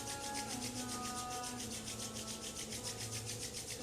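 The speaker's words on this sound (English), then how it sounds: "Rubbing the hands together in front of the heart." Palms briskly rubbed together during a Kundalini yoga practice, a steady, rapid, close swishing friction in an even rhythm with no voice over it.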